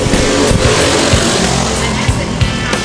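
Race cars of a 12-to-15 age group roar around the Lake City Speedway track, a loud continuous engine drone with passing swells and revving pulses, no talk.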